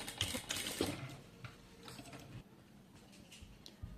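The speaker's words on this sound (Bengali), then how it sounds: "আমি ড্রয়িং বরাবর হচ্ছে কোনাকুনি করে সেলাই করে নেব" A sewing machine stitches a neck design on fabric, making faint, rapid mechanical ticking and whirring in short runs that start and stop.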